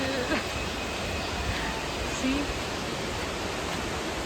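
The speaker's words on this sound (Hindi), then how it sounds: "आ गए ये वाटरफॉल।" A waterfall in Coorg makes a broad, even rush of falling water, steady and fairly loud throughout, while a person speaks briefly over it.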